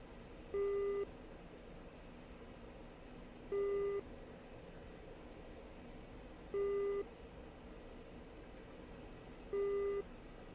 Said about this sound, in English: that annoying beeping is the radar warning receiver